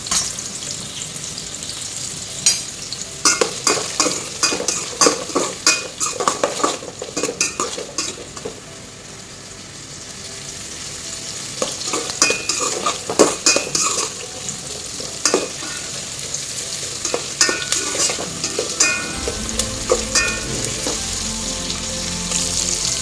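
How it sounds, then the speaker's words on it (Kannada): Onion, mushroom, beans and carrot fry in a pan with steady sizzling, punctuated by repeated sharp scrapes and clinks of a utensil stirring against the metal, close and fairly loud. "ಆನಿಯನ್ನ ಆ್ಯಡ್ ಮಾಡ್ಕೋಬೇಕು, ಮತ್ತು ಮಶ್ರೂಮ್ ಮತ್ತು ಬೀನ್ಸ್, ಕ್ಯಾರೆಟ್ ಇವೆಲ್ಲವನ್ನು ನಾವು ಚೆನ್ನಾಗಿ ಫ್ರೈ ಮಾಡ್ಕೋಬೇಕು."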